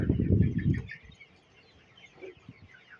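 Desi chickens at a poultry farm: a loud, low, brief burst of fowl noise opens, then faint scattered clucks follow in a quiet setting.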